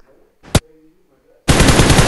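Gunfire in an online shooter video game opens with one sharp crack. After a brief pause comes a loud, sustained burst of rapid automatic fire, close and dense, with no speech over it.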